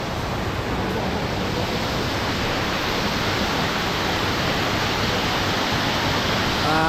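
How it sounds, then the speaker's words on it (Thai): Steady broadband rush of water from a waterfall in the shaded garden of Wat Pha Sorn Kaew temple in Phetchabun, a constant loud roar close by with no voices. "มีน้ำตกอยู่ด้านลุ่มเนาะ"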